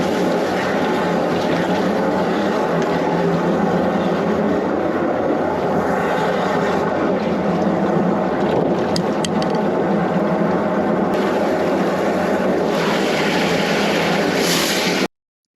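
A drain jetter blasts limescale out of a drain in a sewage-flooded courtyard, a loud, continuous high-pressure roar and hiss that runs unbroken for about fifteen seconds.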